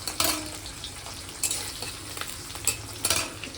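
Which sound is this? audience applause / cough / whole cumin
whole cumin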